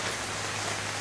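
Heavy rain pours steadily outside a garage, a dense continuous hiss of drops with no pauses and no voices.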